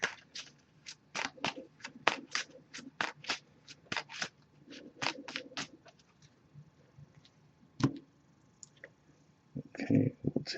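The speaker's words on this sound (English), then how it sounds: "I'm just going to give this a few shuffles." An oracle card deck is shuffled close by in rapid papery clicks and riffles, faster at first, then slowing to scattered taps, with a few quiet bits of speech near the end.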